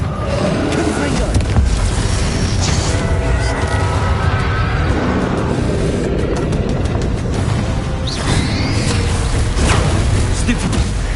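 Spell blasts and booms from Hogwarts Legacy combat, Confringo explosions bursting amid a busy, continuous mix of game effects and voices calling out spells.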